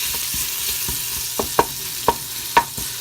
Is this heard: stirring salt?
yes